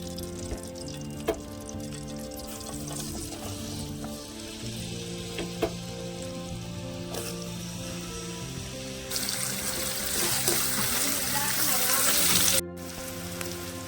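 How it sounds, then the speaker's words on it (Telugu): Green chillies and chopped onion frying in hot oil for a palak tomato curry, a steady broad sizzle that swells louder toward the end, with faint clinks and a low background hum beneath. "ఇప్పుడు ఆయిల్ వేడైన తర్వాత పచ్చిమిర్చి ఉల్లిగడ్డ యాడ్ చేసుకున్నాం"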